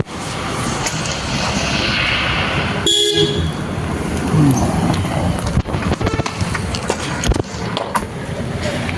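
Vehicle on a road, a continuous loud rumble of traffic and motion noise with a brief horn blast partway through.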